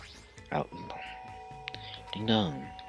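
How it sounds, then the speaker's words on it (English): A two-tone doorbell chime from the video game Super Danganronpa 2 rings once and clearly, mixed with game sound effects, while a person talks over it. "Ding dong."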